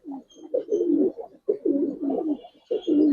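A two-year-old Giribaz pigeon with aluminium-silver colouring coos repeatedly in a loft, a series of close, throaty phrases with short breaks between them.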